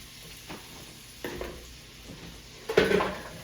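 Bacon and butter drop into a pan with a few soft clunks, then a louder sizzling burst near the end, close and alone.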